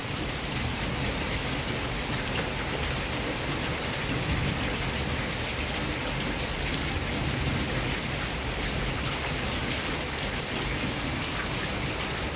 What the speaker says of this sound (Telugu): ఫుల్ బీభత్సంగా వర్షం పడుతుంది